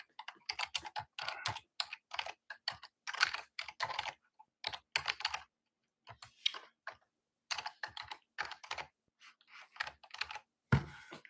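Fingers type on a computer keyboard to log in, producing quick close-up bursts of clicking keystrokes separated by short pauses, with a heavier key press at the finish.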